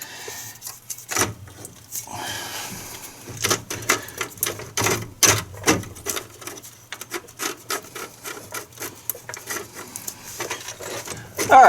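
A hand ratchet tightens the hub bearing assembly bolts on the front wheel of a 2014 GMC Sierra or Chevrolet Silverado pickup, heard as rapid clicking bursts with rubbing and handling noises close by.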